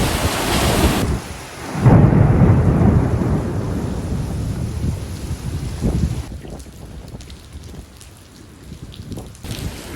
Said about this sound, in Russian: Дождь потихонечку прекращается, гроза уже прошла